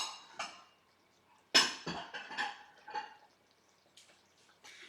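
A small dish, the one that held spices for a cranberry sauce, is picked up and set down on a kitchen counter for a taste test, giving a few close, light clinks and knocks in otherwise quiet surroundings.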